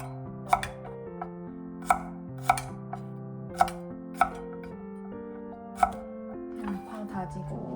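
Garlic is chopped with a knife on a board, with a series of crisp, separate chops at irregular intervals over background music.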